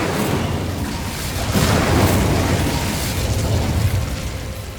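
A loud, sustained roaring blast from an Incendio fire spell in Hogwarts Legacy, a dense rumbling burst of flame that swells midway and keeps booming without a break.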